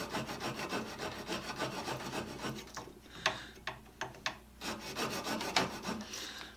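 Copper tubing scrapes rhythmically across a metal file, a series of close, rasping strokes with a short pause of sharper ticks before the scraping resumes.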